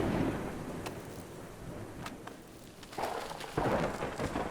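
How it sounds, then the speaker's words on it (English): Rain falls in the Universim god game, a steady low rumbling wash with soft scattered patter and a few brief crackles, swelling slightly louder near the end, with no talk over it. "the rain's back"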